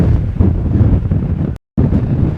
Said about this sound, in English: So it is going to be windy.